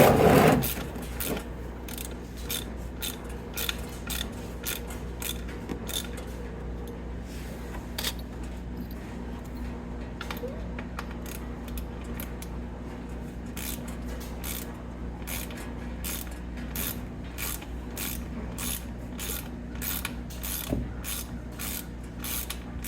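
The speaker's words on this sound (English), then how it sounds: "That is your drain bolt. So I'm going to start cranking on that" A ratchet cranks on the oil drain bolt of a 2014 Polaris Sportsman 570 quad, giving a steady run of fast, close clicking strokes over a low background hum.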